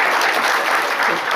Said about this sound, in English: please give Karen a great round of applause